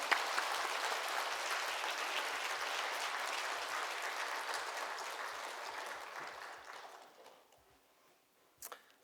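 A church congregation at a Korean War memorial service gives warm applause to welcome a missionary speaker. The clapping is steady and full, then gradually thins and fades out, ending with a faint stray click.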